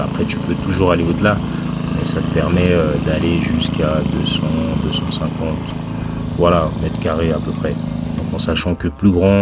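A small-capacity petrol lawn mower for gardens of about 200–250 square metres runs steadily close by, its engine droning continuously beneath someone talking in French.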